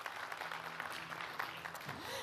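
Faint audience applause at a press event for Take Off Istanbul 2023, a steady wash of clapping lasting the whole stretch with some low voices and a brief tonal sweep near the end.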